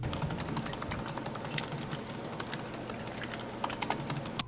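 Rapid, steady clicking of fingers typing on a MacBook Retina's chiclet-style backlit laptop keyboard, close and distinct, with a few slightly louder keystrokes near the end.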